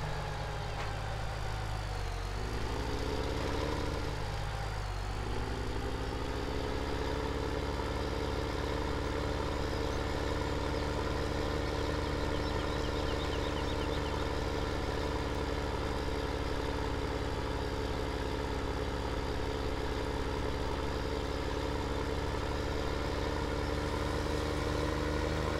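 A tractor engine in Farming Simulator 17 drones steadily and loudly throughout, with a brief dip in pitch near the start as it changes speed, then holds an even, constant hum.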